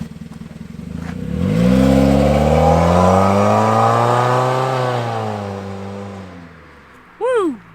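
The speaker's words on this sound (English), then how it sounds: "I'm gonna take an outside clip of some intense rally stage driving" Rental Nissan Versa on an intense rally stage, engine revving hard and rising in pitch as it passes close by, then fading away, with a brief whoop near the end.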